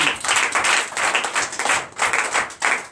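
Church congregation at a Sunday service claps in rhythmic bursts, a loud, close pulse of many hands beating in a steady repeating pattern with brief dips between groups of claps.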